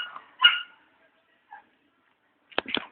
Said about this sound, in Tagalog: Sila ang aso na gala.